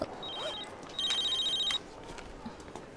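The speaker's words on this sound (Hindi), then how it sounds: "फोन बज रहा है।" Telephone ringing in a Hindi-dubbed action film, two short bursts of electronic ring tone, the second longer, fairly faint over a quiet background.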